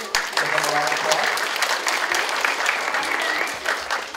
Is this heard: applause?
yes